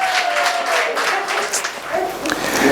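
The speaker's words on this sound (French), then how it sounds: "est-ce qu'on peut applaudir très fort pour moi" A crowd claps steadily, dense and continuous applause with some cheering voices mixed in, swelling slightly toward the end.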